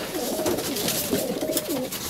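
Several pigeons coo softly and repeatedly, their low warbling calls overlapping against a steady background hiss.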